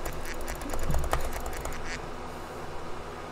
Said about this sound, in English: Do it with the quack.